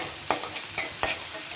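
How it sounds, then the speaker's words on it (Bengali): Onions are stirred as they lightly fry in a pan for a hilsa and water lily dish, with three quick, close scrapes over a soft, steady sizzle. "এভাবে নেড়ে চেড়ে নেব পেঁয়াজটা একটু হালকা ভাজা হলে পরে আমরা শাপলাটা অ্যাড করব"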